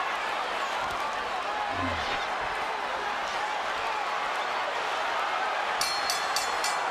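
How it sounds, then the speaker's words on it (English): A ringside boxing bell rings rapidly several times to close the ninth round of Floyd Mayweather vs Miguel Cotto. It comes near the end, over a dense roaring arena crowd and a commentator's voice. "There's the bell ending in the 9th round."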